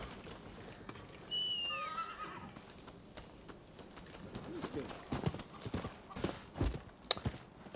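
A horse whinnies with a rising-falling call, followed by a run of clip-clopping hooves and scattered thuds, in the video game Rise of the Rōnin.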